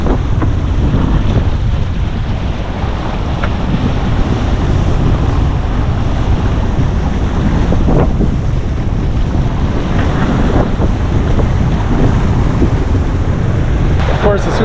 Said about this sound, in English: The Gulf Stream current just seemed to tell the waves to settle down and all head in the same direction, creating a much smoother ride.